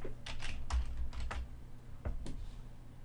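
Quiet, irregular keystrokes on a computer keyboard come in short bursts as a value is typed into Intuit Field Service Management software, with no voices.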